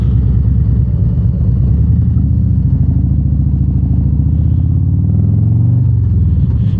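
A 2024 Harley-Davidson Road Glide with a Screamin Eagle Pro Street tune rumbles in a loud, steady, low V-twin throb while cruising. It pulls at low revs with a pulsing beat that rises slightly in pitch near the end, and no voices are heard.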